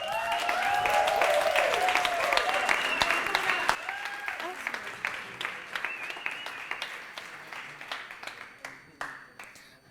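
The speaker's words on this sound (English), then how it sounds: "we have to give her an especially big round of applause" Sustained applause from a conference audience, dense clapping with some voices mixed in at first, gradually thinning and fading toward the end.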